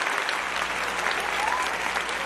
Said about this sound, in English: We gotta do a round of applause.